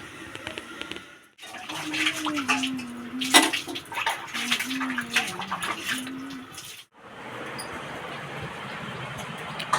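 Paneer being washed under running water, a splashing, clattering stream with small knocks of dishes or utensils, a brief pause, then a steadier rush of water; no speech.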